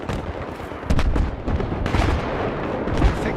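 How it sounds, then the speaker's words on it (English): Battlefield 3 battlefield gunfire: a loud sharp shot cracks out near the one-second mark over a dense rumble of distant artillery and battle noise, with another heavy report around three seconds. "I think that was a sniper rifle."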